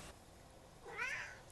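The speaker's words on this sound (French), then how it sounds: "Mon chat qui s'y mêle" A pet cat gives a single short meow, faint and slightly distant, that rises and falls over a quiet room background.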